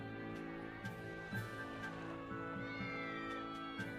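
Cat meows in a video game, Let's Play of The Wolf Among Us Episode 2, heard faintly over a steady tonal game soundtrack, with a few short soft calls spread through the passage.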